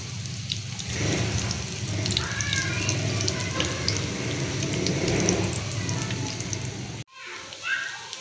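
Tandoori cutlets, a second batch, sizzle and crackle steadily in hot oil, a continuous dense fry noise that cuts off abruptly near the end, followed by a brief quieter rustle.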